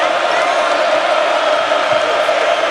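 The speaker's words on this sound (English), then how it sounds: "Crowd trying to will this Clemson defense on." Basketball arena crowd roaring to urge on the Clemson defense, a steady, dense wall of cheering voices with no letup.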